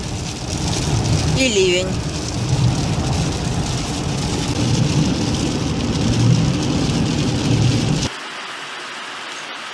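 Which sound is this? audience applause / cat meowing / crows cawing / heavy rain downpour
heavy rain downpour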